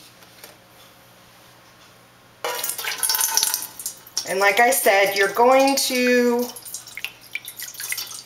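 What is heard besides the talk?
distilled water poured around a ramekin in a bowl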